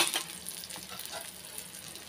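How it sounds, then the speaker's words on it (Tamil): Thanjavur-style adai batter, a thick lentil-and-rice pancake, cooking on a hot pan after a little oil is poured over it, giving a steady, soft, close sizzle with faint crackles and no voices. "அது மேலே கொஞ்சமாக எண்ணெய் விட்டுக்கலாம்."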